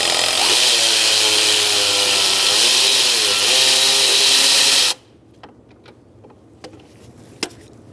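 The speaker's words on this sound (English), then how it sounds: "next we're going to take out this bolt completely" A power tool, likely an impact wrench or ratchet, loosens an alternator bolt on a 2010-2013 Kia Soul 2.0L, whirring loud and steady for about five seconds before stopping abruptly, followed by faint clicks and a small metallic tap.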